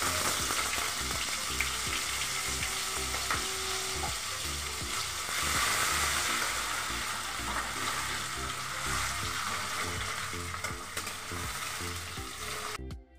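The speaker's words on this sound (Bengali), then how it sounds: "তোমরা দেখতেই পাচ্ছ পেঁয়াজ আর টমেটো আমি সিদ্ধ করে কড়াইতে দিয়ে দিয়েছি" Boiled onion and tomato fry in a wok with a loud, continuous close-up sizzle, punctuated by stirring scrapes and small crackles, steady for over twelve seconds before cutting off, with no talking.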